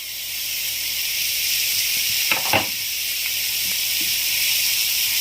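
Chopped green chillies sautéing in a pan with salt over medium flame, a steady loud sizzle and hiss with a few brief stirring clatters partway through.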